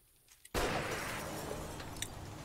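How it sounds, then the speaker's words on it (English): A glass window shatters in the survival game 7 Days To Die: after a quiet moment, a sharp loud crash bursts out, followed by a sustained tinkling spray of fragments. "Who broke our glass?"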